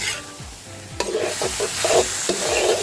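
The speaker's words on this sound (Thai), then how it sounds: "ก็ผัดให้ได้ระดับตามที่เราต้องการก่อนเลยค่ะ" Pork liver stir-fried with garlic and pepper in a pan, steady close sizzling with several scraping spatula strokes against the pan at a brisk rhythm, no voices.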